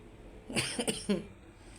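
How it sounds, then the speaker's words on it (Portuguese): A woman coughs a few times in quick succession, close and fairly soft, in a short burst between pauses in a church testimony setting. "Tô tossindo"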